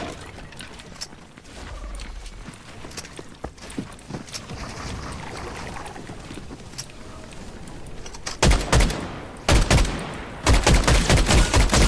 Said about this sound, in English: players firing at me while I'm trying to get this player eliminated